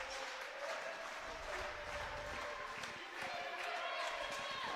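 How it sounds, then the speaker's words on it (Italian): Fans chant and cheer at the PalaDante arena in Trissino before a women's Serie A roller hockey game. A steady, distant crowd roar fills the whole stretch, with faint sung tones running through it. "Intanto si sentono di sottofondo i cori dei tifosi che stanno ancora arrivando qua al Paladante del Trissino."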